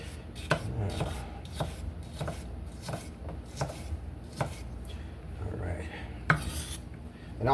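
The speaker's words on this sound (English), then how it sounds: "Now I'm gonna go ahead and quickly do these onions. Get these nice and thin." A knife slices onions thinly against a cutting board in quick, regular chops, soft and close, with faint utensil clatter between strokes.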